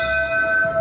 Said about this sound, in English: So I ring the bell, the guy gives me a boat, and we're off.